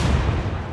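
Naval guns firing in the warship game Atlantic Fleet, a dense, loud rumbling blast that fills the short moment on its own with no pause.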